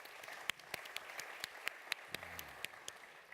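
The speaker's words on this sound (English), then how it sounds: "Let's give him another round of applause" A summit audience gives a faint, distant round of applause after an economist's remarks, with scattered sharper claps standing out over the soft wash of hands.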